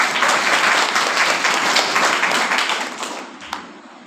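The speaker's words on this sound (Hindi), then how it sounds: "ताली बजाओ इसके लिए।" A church congregation claps together at a Sunday service, loud dense applause that holds steady and then tapers off toward the end.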